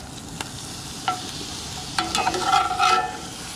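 Chicken liver sizzling steadily in a frying pan, with a utensil scraping and clinking against the pan a few times as the pieces are stirred, close and with no talking.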